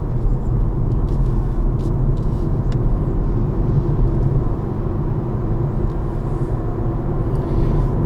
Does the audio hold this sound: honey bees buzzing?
no